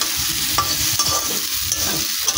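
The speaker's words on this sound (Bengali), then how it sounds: "ভালো করে কষিয়ে নিচ্ছি" A spiced fig curry being sautéed in a pan, with a loud, continuous sizzle and repeated scraping stir strokes, close up and with no talking.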